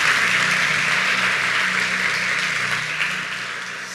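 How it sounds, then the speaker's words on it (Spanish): A church-style gathering breaks into a strong, dense round of applause, loud and continuous clapping from a crowd that holds steady and then tapers slightly toward the end, with no speech. "Dale un fuerte aplauso a Dios."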